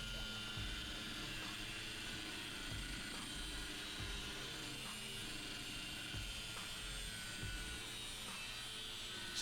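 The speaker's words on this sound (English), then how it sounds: "Just cutting that out with the grinder," Angle grinder fitted with a cutting disc slicing through steel plate along a marked circle, a steady continuous whine with harsh grinding noise throughout.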